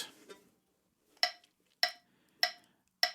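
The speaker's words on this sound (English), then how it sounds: "set any metronome you have to 100" Sharp, evenly spaced metronome clicks at 100 bpm, four distinct ticks, crisp and close in a quiet room.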